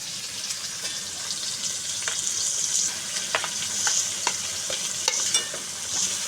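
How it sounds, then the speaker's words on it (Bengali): A spice paste of ground cumin, turmeric, garlic, ginger and green chilli fries in hot oil for a tengra fish curry, giving a steady close sizzle with repeated spatula scrapes and clinks against the pan, and no talking. "এটা আমি তেলে দিয়ে দেবো।"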